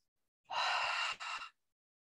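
Deep inhalation through the nose into a cupped palm: one long, close breath followed by a shorter second pull, with no other sound around it.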